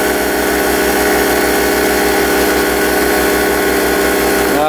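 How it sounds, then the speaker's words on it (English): A small generator and an air compressor run together, steady and close, as a continuous loud drone with a pulsing low throb under a broad mechanical hiss. "I have the baby generator going. Air compressor running"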